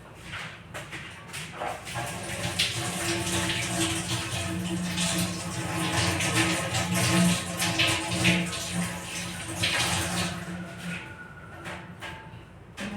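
Tap water runs steadily into a kitchen sink while vegetables are washed, a continuous hiss and splash with faint clatter and handling sounds throughout.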